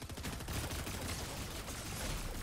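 Pulse rifle fire in the Fortnite video game: a dense, continuous stream of rapid shots that stays loud throughout.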